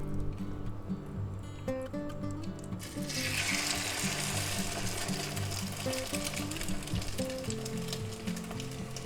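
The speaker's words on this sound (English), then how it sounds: "Okay, our pan's nice and hot. We're going to add our pork loin roast here." A pork loin roast drops into a hot pan and starts sizzling loudly, a steady hiss that continues over background music.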